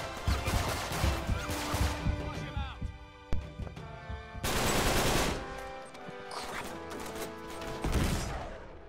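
A new gun fired in the Uncharted 3 game, heard as dense bursts of rapid gunfire with crashes and impacts, loud and close, over music and game noise, with someone talking over parts of it.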